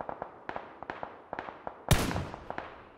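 Gunfire striking a player in PUBG: a steady series of sharp, evenly spaced cracks, then a loud burst of impact noise near the end, heard close with no talking.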